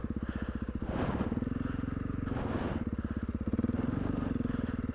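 A big bore Honda CRF300L dual sport motorcycle ridden on tight single track through a boulder section, its single-cylinder engine thumping in a rapid pulsing rhythm with brief rises in revs and some clatter.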